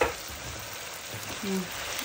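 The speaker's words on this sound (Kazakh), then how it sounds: "етіміз қуырылып жатыр." Meat frying in a pan with a steady, close hiss and crackle that holds evenly throughout, with a few small sputters near the end.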